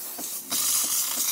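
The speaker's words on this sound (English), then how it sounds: "excellent flow of steam coming out of the machine" A Jura ENA 4 coffee machine, tested after a tune-up and without its frother tip, lets out a loud, close hiss of steam that surges suddenly and then holds steady.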